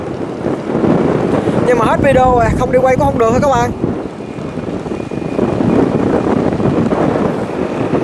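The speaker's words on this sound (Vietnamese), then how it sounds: "Bữa nay gió dữ lắm các bạn ơi" Strong wind buffets a camera microphone outdoors by a river, a continuous heavy rumbling roar throughout, with someone speaking briefly over it.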